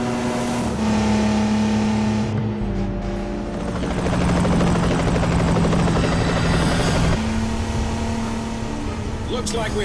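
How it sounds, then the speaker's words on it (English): Helicopter in the video game Agent Under Fire, its loud steady rotor drone mixed with a car engine's changing hum during a driving chase, with a person talking over it. "Watch out for that helicopter!"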